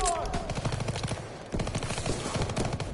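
Call of Duty Zombies gameplay gunfire rattles in rapid automatic bursts, close and loud, with a brief break midway before the shooting resumes.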